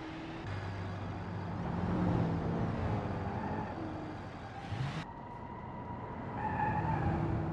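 A car's brakes screech on a road amid engine and traffic rumble, with a sustained tonal squeal and a brief, harsh burst of tire noise near the middle.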